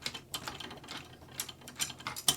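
A threaded clamp being loosened while building an ash, hickory and purple heart flatbow, producing a series of quick ratcheting clicks and small metallic ticks, close and fairly quiet with no talking.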